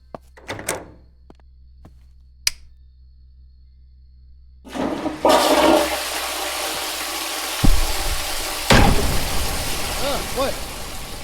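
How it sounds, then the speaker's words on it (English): A toilet flushes in The Wolf Among Us, a sudden loud rushing gush of water that swells and keeps running after a few scattered knocks and thunks. "I think I flushed the toilet through the wall."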